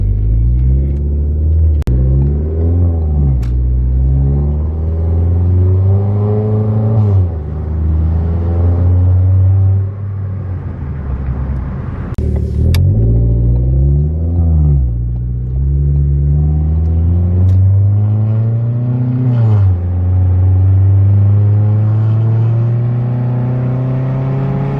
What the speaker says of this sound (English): I really like the sound of the Focus.